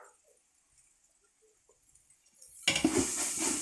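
Chopped tomatoes hit a hot frying pan of garlic paste for mutton biriyani. After near silence, a sudden loud sizzle bursts in and holds steady with light stirring scrapes.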